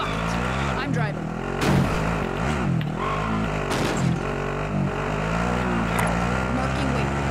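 Vehicle driven in Warzone, with a steady engine drone and revving that rises and falls over several seconds, running loud under voice chatter and game radio callouts.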